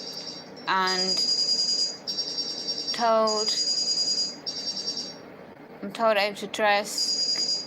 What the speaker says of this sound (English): Sorry about the noise, can't get to the phone right now.